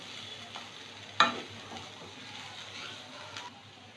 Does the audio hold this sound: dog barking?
no